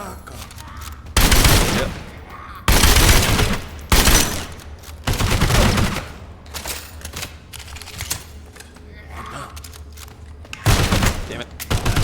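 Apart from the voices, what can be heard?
gunfire from a video game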